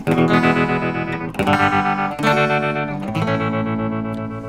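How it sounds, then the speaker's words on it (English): Electric guitar played through a Boss TR-2 tremolo pedal, loud and close, ringing chords pulsing with a steady wavering throb, a new strum roughly every second, with no talk. "I've got the Boss Tremolo TR2."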